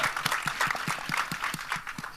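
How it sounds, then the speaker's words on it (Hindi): An audience at an event for the Border 2 trailer claps in a steady, fairly quiet patter of applause, heard at some distance. "एक बार जोरदार ताली होनी चाहिए"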